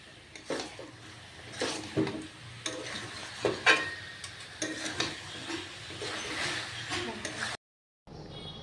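Jackfruit pieces and spices frying in a pan, with repeated scraping stirs and a low sizzle in uneven strokes, close by, before a brief drop-out near the end.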